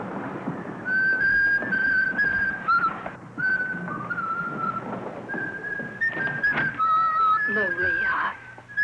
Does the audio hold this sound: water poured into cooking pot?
no